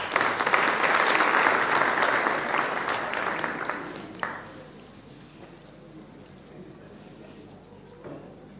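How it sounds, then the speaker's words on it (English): An audience applauds at a lecture on South African politics, the dense clapping loud at first, then thinning out and dying away after about four seconds, leaving quiet room noise. "A big hand of applause."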